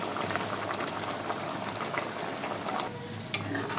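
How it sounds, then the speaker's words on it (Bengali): Hilsa fish malai curry bubbling in a covered pan, a dense, continuous simmering hiss and bubbling at close range, with a faint clink near the end and no talking. "এবার একটু এটা ঢাকা দিয়ে ফুটতে দিতে হবে"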